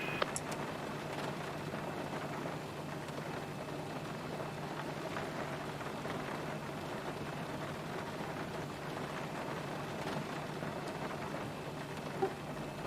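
Steady rain falls in a flight simulator cockpit with the Zibo mod at Edinburgh, a continuous soft hiss of drops with a faint distant rumble and one sharp tap near the end.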